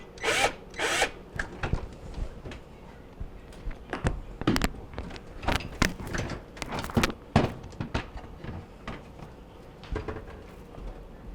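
Short whirring bursts from a power drill loosening screws on a Whirlpool refrigerator ice maker, start-stop and close, with clicks and handling knocks between them.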